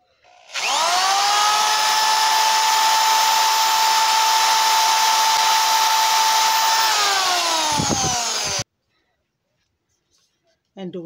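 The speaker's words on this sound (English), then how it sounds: "start drilling your hole" Power drill boring a hole through a heavy-duty balloon stand base, a loud high whine that spins up, holds steady for several seconds, winds down and cuts off, followed by a short final burst.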